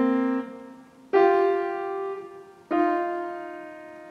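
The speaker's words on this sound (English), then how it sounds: "And tones sound like this." Three sustained musical notes are played in sequence, each a whole tone apart, each freshly struck and left ringing, clear and close with no voices.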